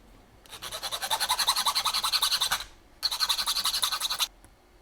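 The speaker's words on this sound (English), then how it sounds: "I'm just going to file it down." A metal file strokes rhythmically across a small part for a Seiko SKX013 watch mod, close and crisp, in a fast steady run of rasping passes, a brief pause, then a second burst.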